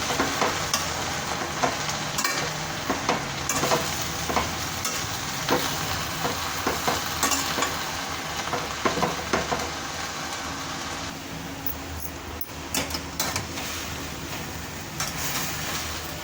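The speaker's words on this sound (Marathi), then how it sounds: "आता भाजी व्यवस्थित परतून घ्यायची तेलामध्ये" Alfalfa greens sautéed in oil with reddened garlic in a pan, a continuous close sizzle with frequent scraping and tossing strokes of a spatula, steady and loud throughout, no talking.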